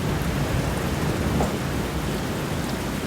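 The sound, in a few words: thunderstorm with heavy rain and thunder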